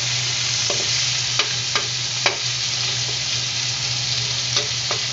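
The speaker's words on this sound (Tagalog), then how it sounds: "Haluin natin. Ayan, pag nag-golden brown na yung ating pork," Pork spareribs frying in a pan for adobo, a steady loud sizzle with a few sharp scrapes of stirring breaking through.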